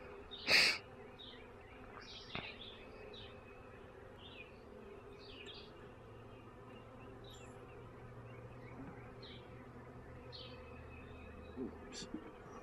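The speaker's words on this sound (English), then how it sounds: "Doesn't that constant buzzing sound annoy the crap out of you?" Honey bee swarm buzzing steadily inside a new bee box, a constant low drone heard close up with a few louder knocks and brief bursts over it.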